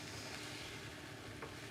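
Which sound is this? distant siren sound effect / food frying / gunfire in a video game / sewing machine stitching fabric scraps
food frying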